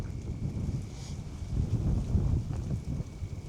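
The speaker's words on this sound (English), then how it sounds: "so if you can hear wind noise, you know why." Strong wind gusting in Tasmania, buffeting the microphone with low rumbling wind noise that swells and eases in uneven surges, fairly faint overall and without speech.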